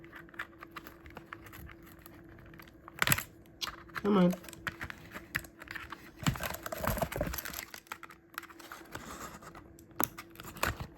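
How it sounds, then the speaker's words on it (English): Scissors snipping and tearing into plastic Transformers toy packaging, close and crisp, with crinkling and rustling between cuts and a brief spoken word from the person opening it. "If I can get my scissors into it."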